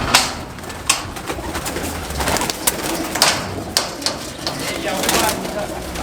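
Soft coos from a large Lalchina pigeon repeat close by amid rustling and light tapping noises, with some faint background voices.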